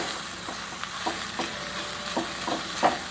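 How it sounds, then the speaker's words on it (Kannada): Garlic and fresh curry leaves fry in hot oil, a soft continuous sizzle broken by occasional scraping stirs of a utensil in the pan, close up and fairly quiet. "ಇದನ್ನೆಲ್ಲ ಚೆನ್ನಾಗಿ ಫ್ರೈ ಮಾಡ್ಕೋಬೇಕು."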